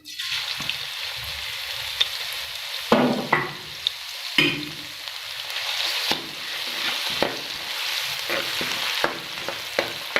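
Ginger garlic paste sizzles and crackles in hot oil while a spoon stirs and scrapes the pan now and then, a steady close frying hiss throughout.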